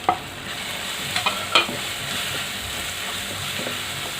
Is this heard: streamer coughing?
no